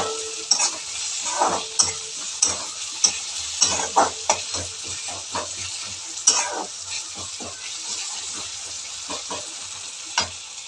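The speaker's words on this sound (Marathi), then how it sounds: "त्यामुळे ते तेलामध्ये थोडेसे फ्राय करायचे." Bombil (Bombay duck fish) pieces frying in oil over a raised flame, a steady close bubbling sizzle broken by repeated utensil scrapes and taps, with no talk.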